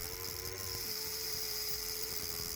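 A rotary grinding burr cutting through the axle of a 1957 Matchbox Y7 1918 Leyland 4-ton van, a steady high-pitched whine held constantly for a few seconds at close range.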